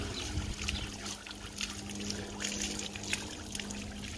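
Water trickles and splashes steadily over an Alaskan Malamute's head during a bath, a continuous quiet pouring sound with no voices.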